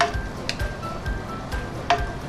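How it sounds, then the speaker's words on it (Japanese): Flour stir-fried in a pan for a homemade macaroni gratin gives a soft, steady sizzle, broken by a few light clinks of a utensil against the pan. "これ小麦粉を炒めるというイメージですよ。"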